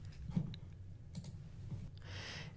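A few faint clicks of a computer keyboard while two letters are typed in a quiet room, followed by a soft, broader clatter near the end.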